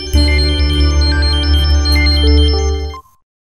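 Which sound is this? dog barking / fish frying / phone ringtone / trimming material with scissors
phone ringtone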